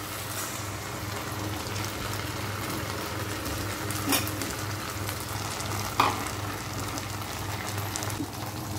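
Tomato paste sautés in a pan with softened ingredients for an elephant foot yam fry, a steady close sizzle broken by two sharp stirring scrapes, with no talking.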